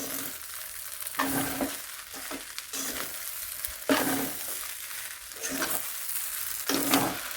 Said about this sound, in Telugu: వేసుకొని మొత్తం ఈ విధంగా కింద నుంచి పైకి పైనుంచి కిందకి ఈ విధంగా కలుపుకొని